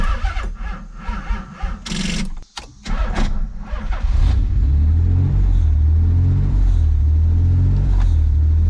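A Nissan 300ZX cranks with a few choppy starter bursts, catches, and settles into a steady low rumbling idle, loud and close, with no talking.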